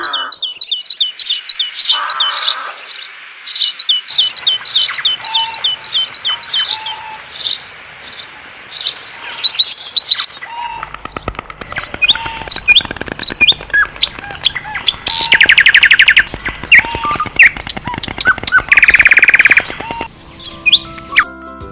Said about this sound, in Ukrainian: поговоримо ми про птахів